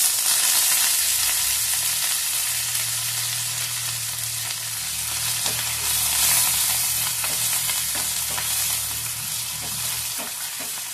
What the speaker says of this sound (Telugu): ఇలా మన ఎండుమిరపకాయలు వెల్లుల్లి చక్కగా ఆయిల్ లో వేగిన తర్వాత కరివేపాకు వేసుకోవాలి